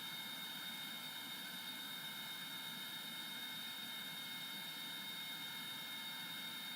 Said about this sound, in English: why are we getting continuous jet noises even though they're fully shut down?